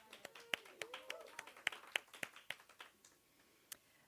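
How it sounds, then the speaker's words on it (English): Scattered handclaps from a small congregation at a hybrid church service, a sparse, uneven round of applause that fades out after about three seconds, faint and slightly distant. "So round of applause, please, for Ivor."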